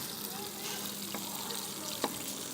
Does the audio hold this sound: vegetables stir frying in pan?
yes